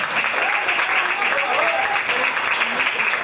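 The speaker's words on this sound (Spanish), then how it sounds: "Un aplauso para ella" A stand-up comedy show audience claps together in a dense, steady burst of applause, with voices mixed into the crowd noise.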